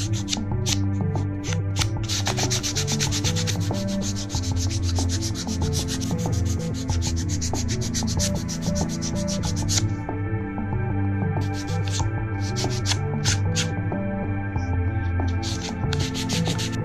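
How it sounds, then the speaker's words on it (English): A cut board for a single-sheet accordion book being sanded by hand to remove burrs, with steady rhythmic rubbing strokes close by and a faint voice in the background. "Sand the board to remove any burrs from cutting."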